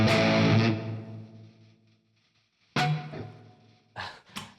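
Distorted electric guitar through a Valeton GP200 dialed in with plate reverb, a struck chord ringing out and decaying into reverb tail, then further short chords and bursts after a pause.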